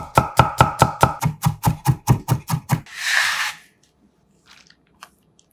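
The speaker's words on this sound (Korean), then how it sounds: "통마늘 8개는 살짝 굵게 식감 있게 다져서 넣고" Knife chopping whole garlic cloves coarsely on a cutting board for a green chili kimchi, about a dozen quick, even, loud strokes, then a short rustling scrape and near silence.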